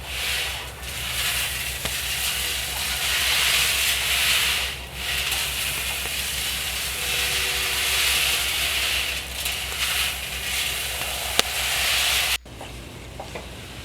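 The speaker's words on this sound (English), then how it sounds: "Here you see nearly completed rice tumbling as a result of the angle iron." Nearly finished wild rice tumbling inside a hand-turned parcher drum with angle-iron ribs over an open fire: a steady rushing, rattling hiss that runs without pause for about twelve seconds, then drops away sharply.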